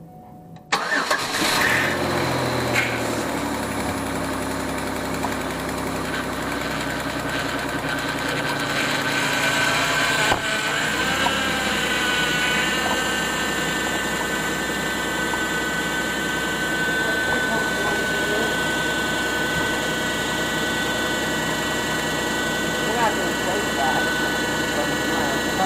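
A car with a 3400 SFI engine, just refitted with a new water pump and coolant, cranks and fires up, then settles into a steady loud idle with a whining hum; a voice speaks over it.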